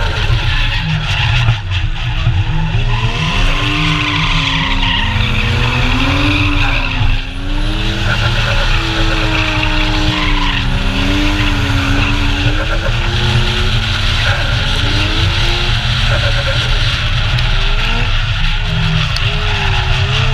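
Drifting cars at Drift Matsuri on Ebisu Circuit in Japan, typically 2.5 or 3-litre turbo machines, with loud continuous tire squeal and skidding over sweeping, rising and falling engine revs, sustained and close throughout.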